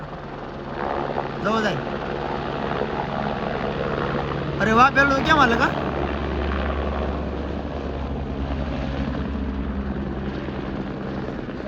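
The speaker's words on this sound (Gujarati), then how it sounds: "મંદિરની બાજુમાં છે હેલિકોપ્ટર." A helicopter idles near Kedarnath temple in the mountains, its low, steady rotor drone running through the whole stretch while people talk nearby.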